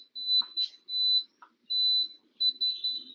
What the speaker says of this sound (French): Je pense que vous entendez un petit peu l'alarme.